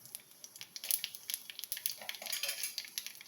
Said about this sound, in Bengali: এখানে আমি একটা শুকনো লঙ্কা আর একটু কালো জিরে ফোড়ন দিলাম